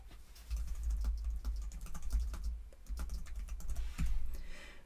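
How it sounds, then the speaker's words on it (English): Typing on a computer keyboard in a text tool of Xara Designer Pro X, with steady close key clicks in quick irregular bursts throughout and a brief pause midway. "I'm going to just go to the text tool and type some text."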